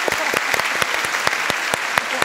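Studio audience at a televised Turkish music show applauds the musicians, with dense, steady clapping and a few sharp, louder claps standing out throughout.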